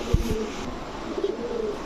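A pigeon coos nearby in a short, soft, low burbling call over quiet background noise.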